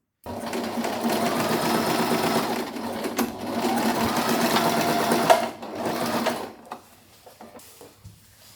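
A sewing machine stitches fabric for a New Year's Eve outfit in steady loud bursts, pausing briefly around the middle, then stopping as quieter handling noises follow.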